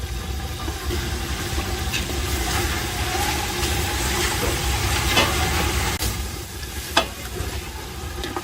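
Whole spices, including cumin seeds, sizzle and roast in a hot pot as the first step of a Pakistani restaurant-style degi chicken chana pulao. The frying hiss is steady and close, with occasional stirring clicks and no talk.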